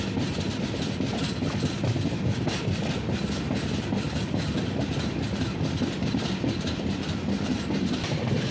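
Mandovi Express rumbling along the tracks from the inside, a steady loud roar of wheels with faint clickety-clack, continuous throughout with no talk.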